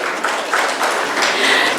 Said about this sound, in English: Let us have a round of applause